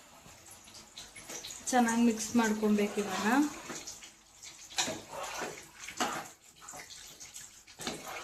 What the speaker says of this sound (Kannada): ಸ್ವಲ್ಪ ನೀರು ಹಾಕೊಬೇಕಷ್ಟೆ.